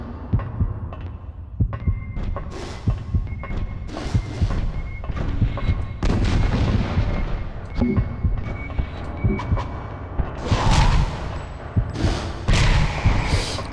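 Shotgun blasts in the PSOne game Alien Resurrection, repeated heavy booms at irregular intervals over a dense, rumbling game soundtrack, loud and close throughout.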